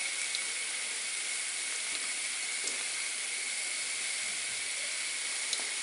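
A steady, even hiss and sizzle of donuts frying in hot oil fills the clip, with faint occasional pops.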